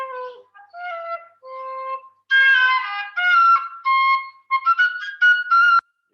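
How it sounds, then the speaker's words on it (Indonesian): Suling bamboo flute in a gamelan karawitan setting, playing a short melodic phrase of separate breathy notes that climbs to sustained high tones near the end, close and solo with no talk. "Ini nada bisa rendah bisa tinggi nih suling juga ya."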